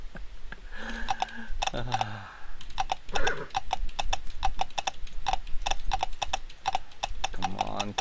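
Hooves of a unicorn clip-clop in the video game CLOP, a steady run of crisp tapping beats repeating close and bright, with brief game sounds and someone talking over parts of it.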